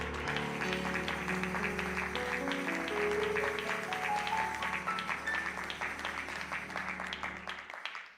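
Audience applause at an evening church retreat, steady dense clapping from a gathered crowd that holds strong for several seconds and then thins and fades away, with faint voices mixed in.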